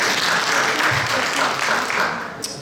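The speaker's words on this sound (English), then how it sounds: "How about a round of applause for him?" An audience at a health expo gives a short burst of steady applause for a Vietnam veteran, dense clapping throughout with a faint voice underneath as it tails off.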